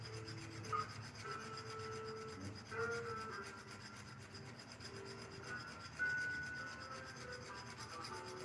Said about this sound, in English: I'm just going at the solder joints with a cut 4 file